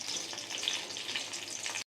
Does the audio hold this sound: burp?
no